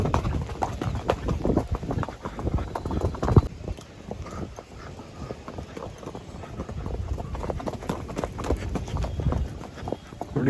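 A restless mare that will not stand still clip-clops close by on hard ground in quick, uneven hoofbeats, busier in the first few seconds and then steadier, with faint voices in the background.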